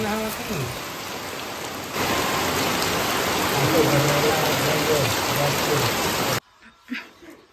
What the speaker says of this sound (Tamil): இப்போயுமே மழை பெய்யுது அதனால் வெளியே உட்கார முடியாது